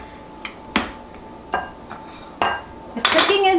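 Pumpkin scone dough being mixed in a bowl, heard as scattered clinks and knocks of a utensil against the bowl, a handful of sharp taps with a busier clatter at the end.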